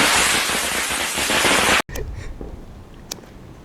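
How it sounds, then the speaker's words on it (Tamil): A Deepavali firecracker fizzes and roars in a harsh burst for almost two seconds, cuts off abruptly, and is followed by scattered crackles and a sharp pop. "பட்டாசு தான் பேசும்."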